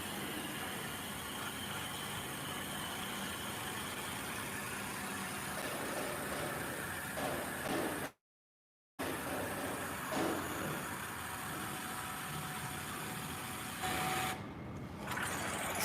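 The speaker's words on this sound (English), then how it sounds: "This is also a rice mill machine which can work on a gasoline engine" A rice mill machine driven by a gasoline engine drones steadily and loudly at close range, with a broad mechanical rumble and rattle. The noise cuts out for about a second midway and then resumes unchanged, with no talking.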